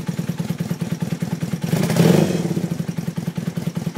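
An old motorcycle engine idles with a steady, close, throbbing putter, then revs briefly and lightly before settling back to idle.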